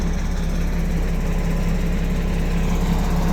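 A Mitsubishi excavator, a worn machine with a failing oil pump, runs at a steady idle, its diesel engine giving a loud, close, even low rumble with no voices.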